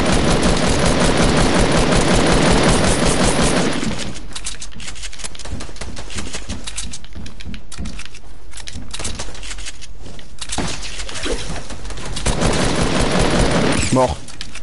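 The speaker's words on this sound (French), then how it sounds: "on me tire dessus" Rapid bursts of automatic gunfire crackle through a video game firefight, with dense repeated shots in the middle stretch and louder mixed game sound and background at the start and end.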